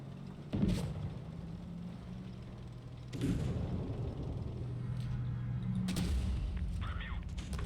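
Three heavy cannon booms spaced a few seconds apart over a constant low engine rumble, from an Object 260 tank in WoT Blitz.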